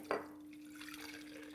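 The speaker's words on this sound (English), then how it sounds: "pour in the milk and then add some maple syrup" Fresh homemade almond milk pours into a carafe with a short splash at the start, then a steady, soft liquid trickle running on, close by, with no talk.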